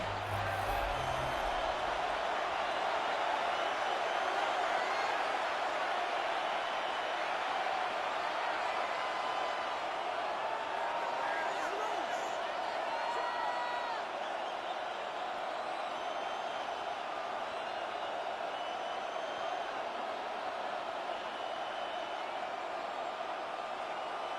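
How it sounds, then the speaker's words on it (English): A big stadium crowd at Wembley in London fills the air for an NFL International Series game between the San Francisco 49ers and Los Angeles Rams, a steady, dense roar and murmur holding at an even level throughout. "a big crowd on hand"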